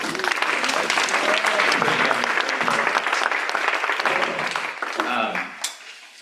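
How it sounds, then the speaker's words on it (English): A meeting audience gives loud, sustained applause after a music performance, with voices mixed into the clapping, which thins and fades in the final second. "Let's give Sharon a big round of applause."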